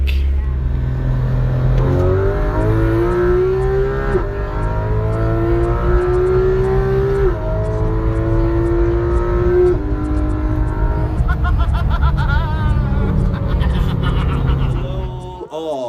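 Engines of a Ferrari 458 Speciale and a Porsche 911 GT3 RS rev continuously and loudly, rising and falling in pitch with a strong harmonic whine, close up and with no talking.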